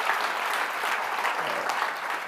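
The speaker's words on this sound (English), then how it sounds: "Can we hear one more round of applause for all of the incredible people we heard from today?" Steady, full applause from a crowd at a forum on child and family well-being. Many hands clap in a continuous, even roar with no pause.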